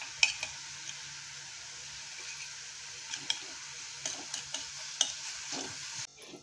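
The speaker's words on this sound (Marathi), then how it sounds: "एक मिनिट झाकून आपल्याला कांदा व्यवस्थित परतून घेऊया." Onion sautéing with ginger garlic paste in a pan makes a soft, continuous sizzle. Scattered light taps and scrapes from stirring come in near the start and again in the second half.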